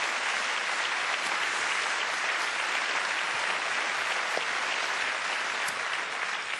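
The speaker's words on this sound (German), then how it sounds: "für diesen frenetischen Applaus" Dense, sustained applause from a large festival audience in Mainz, loud and even throughout with no voices on top.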